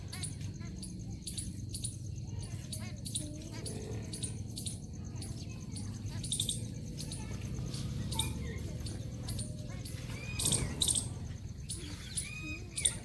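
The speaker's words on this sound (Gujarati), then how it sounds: "જો તમે ચકલા દોણા ખાવા આવ્યા છે" Sparrows chirp in short, scattered bursts as they come down to eat grain, the calls bright and fairly close over a steady low background hum.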